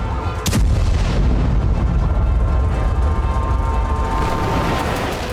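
Air strike bomb explosions in Khan Yunis, Gaza: a sharp, loud blast at the start, followed by a heavy, continuous roaring rumble that fills the rest of the clip.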